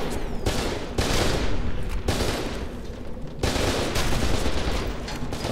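Rapid overlapping gunfire from a sniper duel in the video game F.E.A.R. 2, loud and continuous with sharp cracks and several louder shots near one, two and three and a half seconds, no talking.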